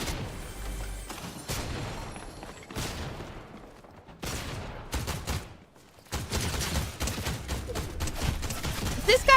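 Gunfire in Fortnite comes in several sharp bursts and volleys separated by brief gaps, loud and close, with the later bursts packed into rapid strings.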